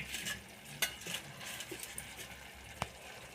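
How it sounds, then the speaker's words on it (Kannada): Ground masala being added to a simmering Mangalorean marwai clam sukka brings soft scrapes, light clinks of a utensil and gentle bubbling, quiet and close with a few sharper taps, no talking. "ನಾವು ಮಾಡಿಟ್ಕೊಂಡಿರೋಂಥ ಮಸಾಲೆಯನ್ನು ಹಾಕೋತಾ ಇದ್ದೀವಿ"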